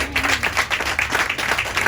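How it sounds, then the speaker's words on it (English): A crowd applauds: dense, steady clapping from many hands, fairly close and even throughout. "So let's clap for her as well."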